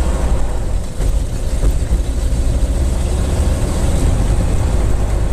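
The engine of a Comco Ikarus C42C light aircraft runs with a loud, steady low drone, heard close and constant with no talking.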